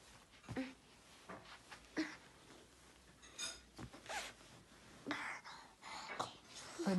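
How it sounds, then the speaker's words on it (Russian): A baby at home breathes heavily in quick, uneven puffs and gasps, soft and close, with rustling and someone talking quietly over it. "Ой, дышишь, как будто ты марафон"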